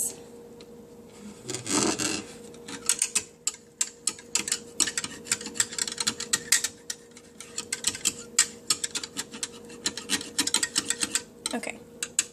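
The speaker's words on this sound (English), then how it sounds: "So you just want to scrape with your whisk." A whisk scrapes leftover egg yolk around a bowl while making homemade chocolate pudding, quick rhythmic scratchy ticks and clinks repeating steadily at close range over a faint background hum.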